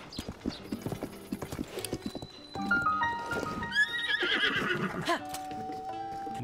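A horse whinnies loudly after a run of clip-clopping hooves, with game-like sound effects around it.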